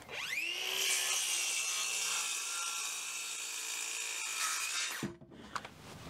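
A power saw cuts through 2x6 lumber for a door header in a workshop, whining loudly and steadily for about five seconds before the blade spins down and stops, followed by faint clatter.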